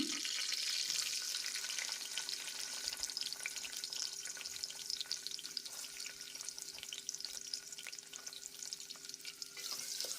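Onions frying in ghee for a mushroom biryani, a soft steady sizzle with light crackle and occasional stirring, close but fairly quiet, no voices.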